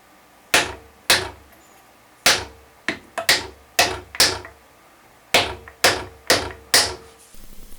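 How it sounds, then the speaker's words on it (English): A hammer drives the lower bushing into a Trabant 601 suspension fork from below, about a dozen sharp metallic blows in uneven clusters, loud and close with short ringing decays between strikes. "just hammer it in carefully from below"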